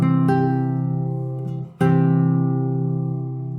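A classical guitar chord in open voicing, its notes spread apart, is struck twice: the first rings steadily, then a second stroke restarts it and it sustains, slowly fading, with no voices.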